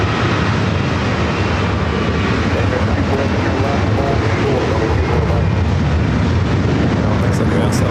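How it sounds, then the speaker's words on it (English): A Boeing 787 Dreamliner at LAX, arriving from Tokyo Haneda, gives off a loud, continuous jet engine roar that stays powerful and close throughout. "Flight 126 coming from Tokyo Haneda, the Dreamliner heading here to the north side"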